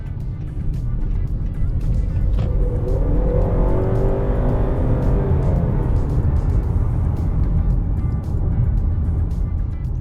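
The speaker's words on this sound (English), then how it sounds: "it does make the car sound quite harsh during acceleration" A 2021 Honda Accord Hybrid accelerates with a rising, harsh engine drone that swells loudly in the middle and then eases off, with a faint voice underneath.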